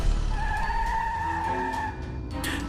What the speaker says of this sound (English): I start the engine and floor it.